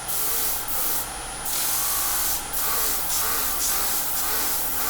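Power sanding pad working a turned wooden box with a threaded lid, a loud continuous hissing rush broken into short bursts with brief lulls, close by and with no talk.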